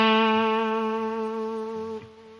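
A vintage digital delay effect on a Line 6 Helix holds a steady sustained guitar tone with faint digital noise beneath, slowly fading before an abrupt drop near the end, with no talking.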